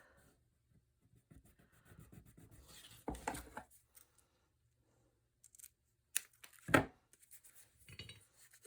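Paper being cut with scissors for a scrapbook folio, a few short crisp snips and rustles, near and fairly quiet, with no talk.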